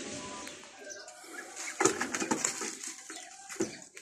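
Pigeons coo in a coop shared with ducks and chickens, soft calls mixed with rustling and clatter, with a voice talking over them.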